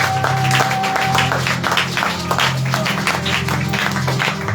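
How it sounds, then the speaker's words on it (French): A church congregation applauds and cheers in praise during a French-language worship service, dense clapping and voices sustained throughout under a steady musical hum. "Acclamez pour la gloire de Dieu"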